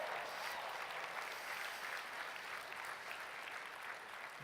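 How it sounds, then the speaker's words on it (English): Audience applause at a Catholic conference keynote, a steady wash of clapping from a large crowd that holds evenly throughout, distant and fairly soft. "everyone applauded for her"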